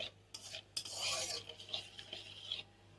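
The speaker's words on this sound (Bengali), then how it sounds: "এবার আমি খন্তি দিয়ে একটু ঘা দেবো। এরকম করে আস্তে আস্তে নাড়িয়ে নেবো আর একটু লাল করে নেবো।" A spatula stirs and scrapes caramel for rice pudding in a pan, with repeated close rasping strokes and metallic scrapes in irregular bursts, nobody speaking.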